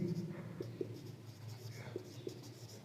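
Pen or chalk writing by hand while working through a physics electricity problem, a series of faint, close scratchy strokes and taps, softly mixed with low background voice.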